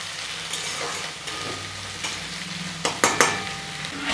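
Chopped onion sizzles steadily in a hot pan for a chicken curry, with a spatula stirring and scraping in a few sharp clatters near the end, close and alone without voices.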